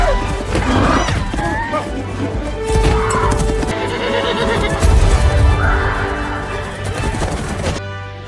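A horse neighs and whinnies amid a loud, dense film action mix with hoofbeats, crashes and wild monkeys chattering, in the jungle chase of Jumanji: The Next Level; the sound stays busy and full throughout.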